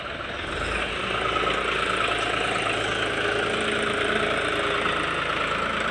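A new tractor's engine idles nearby with a steady, low, knocking chug. The sound holds constant throughout and no one speaks.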